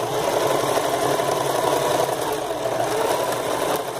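A sewing machine stitches fabric for a patchwork skirt with small ruffles, running continuously and close up with a steady mechanical whir and no voices.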